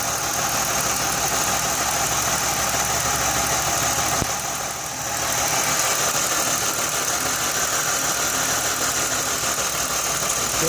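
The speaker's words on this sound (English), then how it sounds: "the engine now doesn't sound really bad" A Jaguar X-Type engine, one with a knocking fault, idles with a steady, continuous hum and faint mechanical clatter, close and unbroken apart from a brief dip midway, with no talking.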